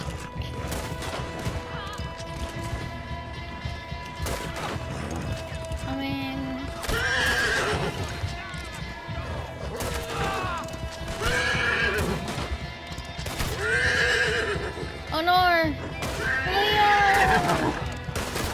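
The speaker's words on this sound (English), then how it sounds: "This is like literally the loudest horse I have." Cleo, a horse in Red Dead Redemption 2, gives several loud whinnies and neighs over clip-clopping hooves, with sharp crashes and a gunshot-like bang mixed in.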